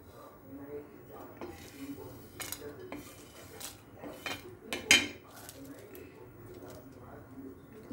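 Roasted cardamom pods are scooped out of a pan while homemade masala is prepared, with a few sharp metallic scrapes and clinks of a spoon against the pan and a soft background murmur of talk.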